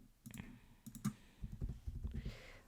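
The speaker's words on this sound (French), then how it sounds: "Je clique ici" A computer mouse clicks a few times at close range while someone designs cards in Canva, quick dry taps scattered through the passage with some soft low thumps and quiet voice-like murmurs between them.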